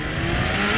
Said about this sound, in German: Jetzt gerade muss man erstmal ein bisschen Gas geben.